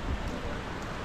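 Steady rain falling during a storm, a brief, even wash of dense drops with no voices.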